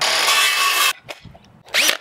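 A power tool drilling a hole in wood for a homemade Hawaiian spear gaff, a loud grinding burst for about a second, a pause with small handling knocks, then another short burst.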